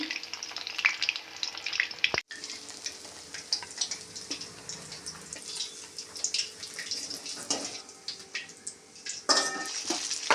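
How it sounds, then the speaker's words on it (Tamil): Chicken 65 pieces deep-frying in hot oil make a continuous bubbling sizzle with crackles and pops. One sharp knock and a louder burst near the end sound like pieces being stirred or moved in the pan. "சிக்கன் எல்லாம் பொரிச்சாச்சு"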